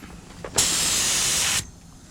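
An automotive spray gun lays clear coat onto a car's quarter panel in a body shop, a single close, loud, steady hiss lasting about a second before cutting off sharply, with quiet room tone either side.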